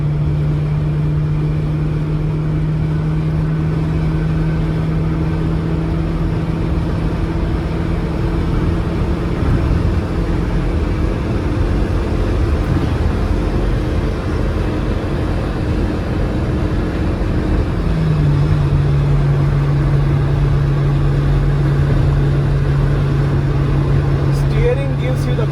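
Stock Honda City Type 2 VTEC engine droning steadily under load, with a sustained mid-low hum that shifts pitch partway through after a downshift, recorded from inside the moving car with continuous road noise.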